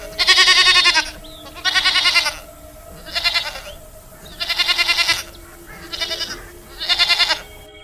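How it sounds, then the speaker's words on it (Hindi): Goats bleat loudly and close up, six drawn-out, quavering calls in an uneven rhythm, each separated by a short pause over a steady low hum. "सोना चुड़ैल के पास बहुत सारी बकरियां थीं।"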